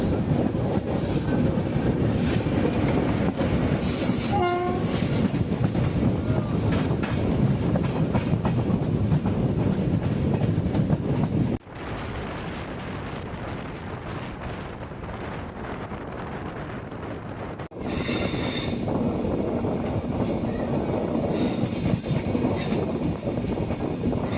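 The Tambaram-Jodhpur Express rolls along loudly with a constant heavy rumble and rattle of carriages, a brief squeal near the start, and the noise dipping partway through before swelling again.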